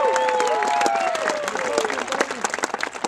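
A high school graduation audience bursts into loud, close applause, opening with whoops and whistled cheers before settling into thick, steady clapping.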